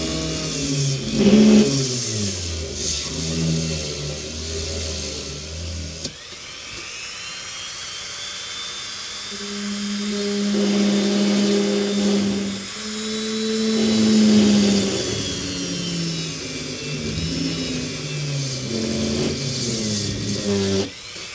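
A small electric drill with a 1/8 bit bores holes for 3mm bulbs in a 1/350 Star Trek Enterprise plastic model kit, whining loudly and steadily, rising and falling in pitch as it speeds up and cuts, close and without talk.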